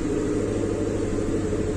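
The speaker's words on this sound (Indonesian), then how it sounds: "Langsung kita dengarkan suara mesinnya." A 1995 Daihatsu Espass car with its engine running, a steady low idle rumble close by with no speech over it.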